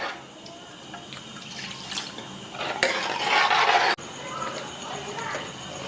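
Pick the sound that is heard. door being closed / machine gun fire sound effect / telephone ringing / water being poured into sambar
water being poured into sambar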